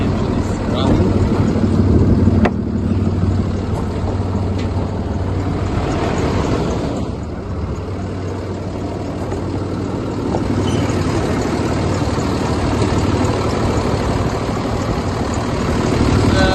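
A Cummins 6.7 diesel idles in a 2021 International MV 26-foot reefer box truck, a steady, close, even rumble that holds level throughout with no revving.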